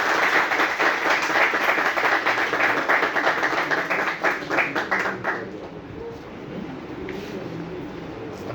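Loud audience applause at a bar vocational course ceremony in Rajanpur, dense clapping from a full room that eases after about five seconds into lighter scattered claps and murmuring.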